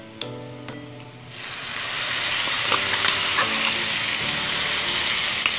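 Red chilli and tomato pickle drops into hot tempering oil with reddened mustard seeds over a low flame. A quiet moment breaks into a loud, steady, close sizzle that keeps going to the end.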